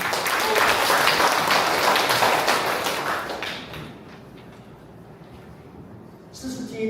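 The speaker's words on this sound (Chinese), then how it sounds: "请你拍手会荣耀你" A church congregation at a joint Sunday worship service at Linkou Presbyterian Church breaks into broad, close applause for about three seconds. The clapping then fades into quiet room tone before faint sounds return.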